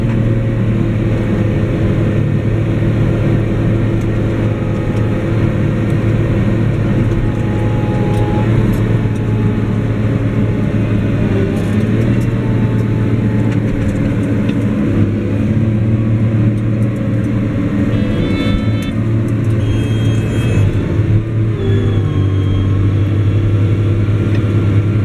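Challenger MT 765 C crawler tractor engine runs steadily nearby, a loud, constant low diesel drone with a heavy hum and faint mechanical whine, unbroken throughout with no talk.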